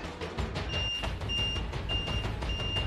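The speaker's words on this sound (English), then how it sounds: "He can make it beep to help him find it." A shared bike's locator gives four evenly spaced electronic beeps over rumbling street traffic and engine noise in Beijing.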